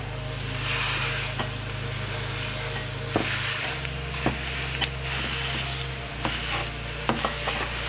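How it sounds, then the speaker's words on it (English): Sausage meat browning in a pan for stuffed mushrooms, a continuous close sizzle with a low hum underneath and occasional sharp pops and utensil taps, no voices. "you're going to cook your meat until it's all the way browned through"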